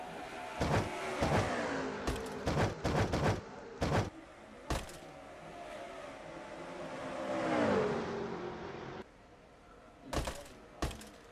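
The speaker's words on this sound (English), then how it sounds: "here comes Dylan Young for the lead in car number 2" Stock cars in an oval racing video game roar past one after another, with sharp bursts of engine noise and a longer swelling drone as a pack goes by. The sound is moderately quiet, with short gaps between passes and no talking.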